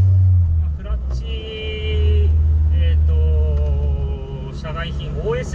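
A low, droning engine rumble fills the cabin of a Honda Civic Type R EK9 with reinforced engine and transmission mounts, a lightweight flywheel and an aftermarket clutch. It swells and eases while someone talks over it.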